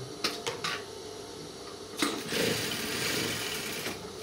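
Sewing machine running in steady bursts while stitching a fabric side pocket onto the body panel, close and fairly loud, with a brief pause and small knocks between runs.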